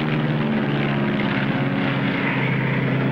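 A propeller airplane engine drones steadily in flight, a loud, constant hum with a low rumble and no voices.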